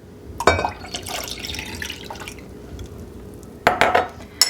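Fresh apple cider pours into a bowl of cold water for a pork chop brine, with splashy bursts of liquid near the start and again at the end and quieter trickling between them.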